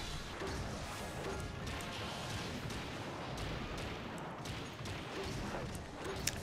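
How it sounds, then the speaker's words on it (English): Bombs going off in Monster Hunter Generations during a Jaggi hunt on the steppe, several explosive crashes in a row, fairly quiet and distant-sounding against a steady rumbling game background. "There was an explosion. There's multiple explosions."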